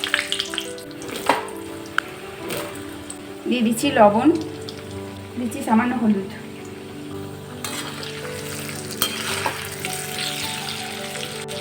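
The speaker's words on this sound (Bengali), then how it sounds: "এখন আলুগুলো ভেজে নেব।" Potatoes frying in hot mustard oil in a kadai, a loud continuous sizzle and crackle close by, with a few stirring scrapes, while someone talks over it.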